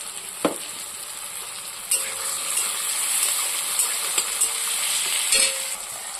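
Spice paste frying with shrimp and greens in a pan: a steady bright sizzle, with several clinks and scrapes of stirring on top and no speech.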